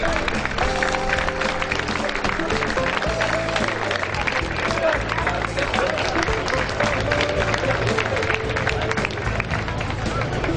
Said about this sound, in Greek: Τους χειροκροτούμε όλους μαζί